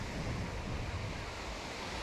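Surf rolling onto the wide fine-sand South Beach in Varna, Bulgaria, a steady close rush of waves mixed with wind buffeting the microphone, with no voices.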